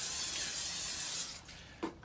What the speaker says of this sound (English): take a solo cup, that's this, and spray it with Pam